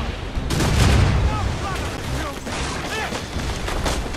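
Ship cannon fire during a naval battle in the game Assassin's Creed Rogue, booming volleys with heavy low rumble, followed by crew shouting.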